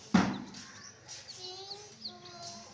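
Baby chicks cheep in short, thin peeps scattered through the moment, soft to moderate and close, after a sharp knock at the start.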